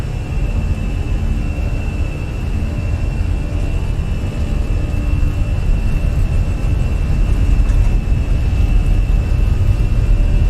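Airbus A320 engines spooling at takeoff thrust in a flight simulator, a steady loud roar with a continuous whine held throughout, no voices.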